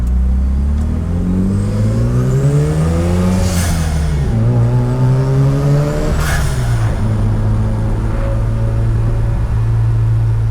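A Mazda RX-7 FD with a loud streetported rotary engine drives a mountain road, revving hard through the gears with repeated rising sweeps, sharp shift breaks and a steady, close, buzzing roar.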